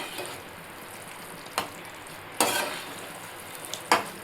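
Paneer curry being stirred in a pan at home, a few scraping strokes of the spoon against the pan over a soft simmering background, close and fairly quiet.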